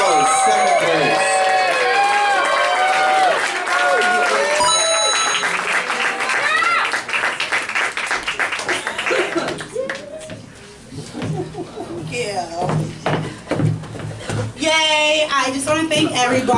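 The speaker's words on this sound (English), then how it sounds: "Can I get a running round of applause for? That means you start clapping now." Awards-night audience breaks into loud applause and clapping, with music, cheering and a speaking voice over it, the clapping thinning out toward the end.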